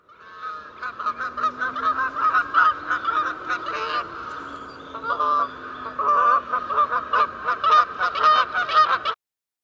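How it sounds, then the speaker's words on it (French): Canada geese give repeated loud honks in a fast irregular series, a close, busy chorus of calls that continues steadily for about nine seconds before stopping abruptly. "c'est la bernache du Canada."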